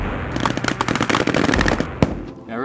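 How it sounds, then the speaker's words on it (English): Rapid rifle fire during National Guard infantry assault training, a dense string of loud, close cracks firing in quick succession, ending in one heavier single shot. "Nothing beats actually throwing rounds downrange."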